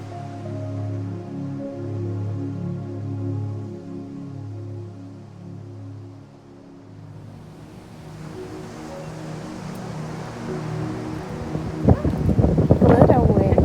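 Outdoor wind gusting against the microphone at a seaside spot where a seashell wreath is being hung, a steady low rumble that swells louder toward the end, with a voice speaking over part of it.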